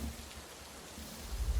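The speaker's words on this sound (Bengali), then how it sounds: "বাইরে বৃষ্টির শব্দ কিছুটা কমে এসেছে" Rain falls steadily outside during a stormy night in a Bengali crime-thriller audio drama, a soft, even hiss that stays faint and distant with a slight swell at the end.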